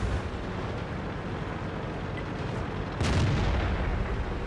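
A tank cannon fires in a PC tank video game, with a deep boom that bursts out over a continuous low rumble of engine and battlefield noise and then settles back into the drone.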